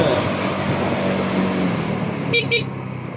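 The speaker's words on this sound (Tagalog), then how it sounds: "Angket ng busina." Motorcycle road and engine noise rumbles along, then the motorcycle horn gives two quick toots near the end.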